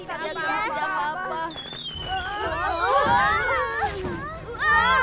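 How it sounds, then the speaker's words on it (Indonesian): Fireworks crackle and pop amid excited crowd chatter and shouting, with people talking over the bursts; the fireworks ignite late or abnormally. "Ledakan dari kembang api seperti ini, menyalanya bisa terlambat atau tidak normal."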